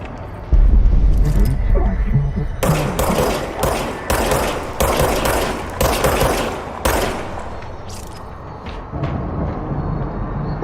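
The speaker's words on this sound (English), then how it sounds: "Okay, now I have a gun." Rapid bursts of automatic gunfire from the video game Control, loud and repeated in several clustered volleys over a low game rumble, with pauses between bursts and no talking.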